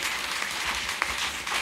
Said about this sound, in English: Give Papa a better clap.